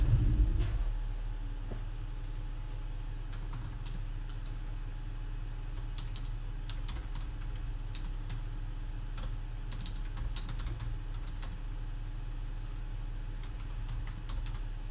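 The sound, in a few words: typing on a computer keyboard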